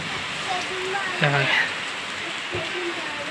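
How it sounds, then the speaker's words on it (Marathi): Even hiss of rain falling steadily throughout, with a few brief voices heard over it. "हे बघा पाऊस पडतोय"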